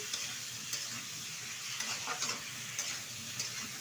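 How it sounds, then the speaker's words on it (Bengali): Fish curry masala sautéing in oil in a pan, a faint but continuous sizzle with light scraping stirs and occasional soft ticks of a spatula against the pan. "এক থেকে দেড় মিনিট মতো আমি একটু তেলের সাথে কষিয়ে নিলাম"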